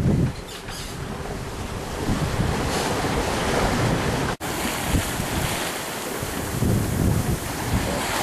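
Ocean waves and strong wind, blowing 18-20 knots, surround a sailboat running wing on wing at about 6 knots at sea; steady loud broadband rushing and wind buffeting on the microphone continue throughout, with one brief dropout midway.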